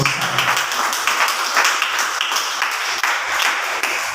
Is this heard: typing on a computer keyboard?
no